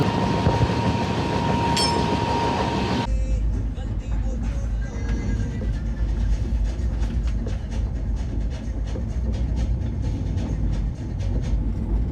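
A long-distance passenger express on a Mumbai to Ambala journey rolls along the rails near Saharanpur, giving a steady rumble with rhythmic wheel clicks and occasional high squeal, continuous and close throughout.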